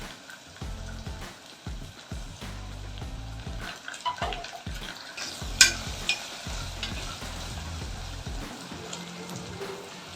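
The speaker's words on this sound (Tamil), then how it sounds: "இப்போ இது நம்ம வதங்கிக்கிட்டு இருக்கு" Curry leaves and coriander sauté for a pepper mutton gravy, crackling and sizzling close by under repeated scraping stirs that come in uneven bursts, with one sharp clack midway and no talking.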